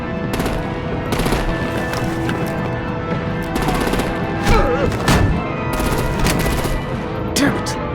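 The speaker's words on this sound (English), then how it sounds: "Bring out the artillery and disable their vehicles!" Artillery gunfire in the Telltale Batman video game crackles in dense, rapid bursts that run almost nonstop, loud and close, with heavier booms partway through and faint voices beneath.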